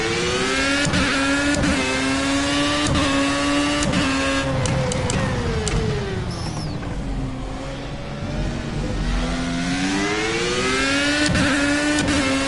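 A Formula A race car engine at full throttle in the game Project CARS, a loud sustained whine rising and falling through gear shifts with clicks at each change, continuous and close, no speech.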